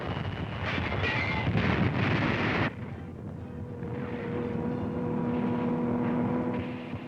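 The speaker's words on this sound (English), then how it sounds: "There's a Nazi dive bomber letting one go. Now American gunners scratch off a Stuka." Archival World War II North Africa recording of a German Stuka dive bomber attacking: a loud, roaring engine rush blends into a rumbling blast, followed by a sustained lower drone and wind-like noise.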